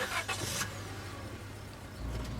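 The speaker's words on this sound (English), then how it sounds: "Tabitha doesn't say a word as the car cuts along the darkened road." A car from the video game Scarlet Hollow rumbling along a darkened road, a low steady engine drone with a brief swell near the start, quiet and alone.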